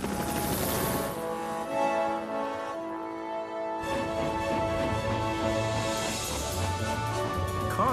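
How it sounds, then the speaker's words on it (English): Harold, the cartoon helicopter from Thomas & Friends, flies in with a rhythmic rotor chop mixed under bright orchestral soundtrack music, the pulsing rotor growing more prominent toward the end. "It's Harold the helicopter"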